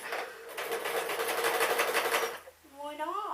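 A domestic sewing machine stitches a seam on a pink dress in a fast, steady whir for over two seconds, then stops and a voice talks briefly.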